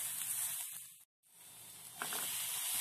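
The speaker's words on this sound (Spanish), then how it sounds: "Esperamos a que se cosa también el chile muy bien" Chile sizzling in a hot frying pan for a Mexican-style beef steak dish, a steady close hiss that drops out for a moment, then resumes and swells slightly louder.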